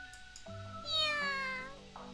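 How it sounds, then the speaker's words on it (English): A cat meows once in a long, rising-then-falling cry in the visual novel game The Fruit of Grisaia, clear and close over soft background music. "Watching the cat cuddle up against her leg"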